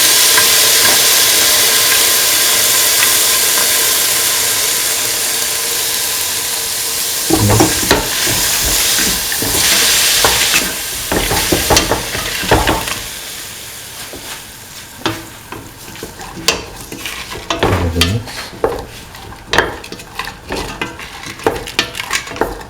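Green peas stirred in a frying pan, a loud steady sizzle at first, then scraping utensil strokes and clatter against the pan as the frying fades and the stirring grows rhythmic.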